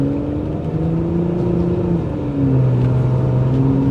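Mitsubishi Diamante with bad brakes and a rough-shifting automatic transmission, its engine droning steadily from inside the cabin, pitch holding, then dropping as it shifts with a slight surge in loudness.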